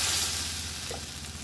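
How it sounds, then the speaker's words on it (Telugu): Dosa batter sizzles on a hot griddle pan, a dense, steady frying hiss heard close up and alone, easing slightly as it goes on. "పెనం వేడెక్కింది, మనం అట్లు పిండి వేసుకుందాము"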